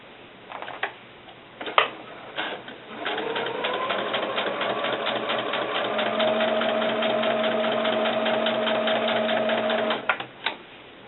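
A sewing machine with a walking foot stitches through marine vinyl for doll snakeskin boots, its fast rhythmic clatter running about seven seconds after a few clicks and taps, close and fairly loud.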